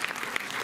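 Brief burst of audience applause in a cinema during a screening event, dense clapping heard alone and fairly loud for under a second.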